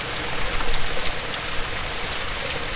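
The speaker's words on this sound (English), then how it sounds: "She's supposed to be a passing shower." A passing August rain shower in the Scottish Highlands patters steadily outdoors, a dense hiss of drops on surfaces at moderate loudness with no voices.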